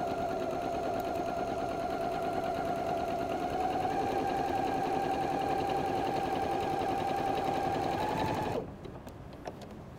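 A sewing machine runs steadily, stitching quilt half square triangles along a drawn line, its motor whirring loud and even for about eight seconds before stopping abruptly, leaving quiet room noise.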